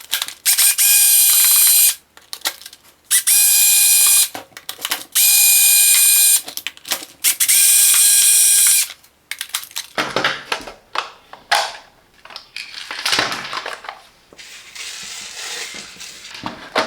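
A driver backs four screws out of a car jump starter's plastic casing, four loud close bursts of rapid ratcheting whir, then lighter clicks and rattles as parts are handled.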